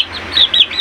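Three-month-old chicks chirping up close in a short burst of a few quick, high, bright peeps.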